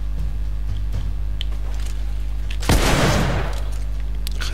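A single heavy rifle blast from the shooter game The Order, one loud booming shot with a long rumbling tail, standing out over a steady low background hum.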